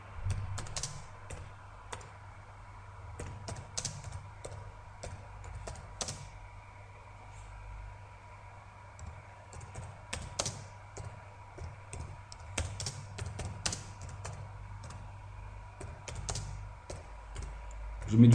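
Steady typing on a computer keyboard while text is entered in Photoshop, with irregular bursts of quick key clicks and small pauses, close and fairly quiet over a faint background hum.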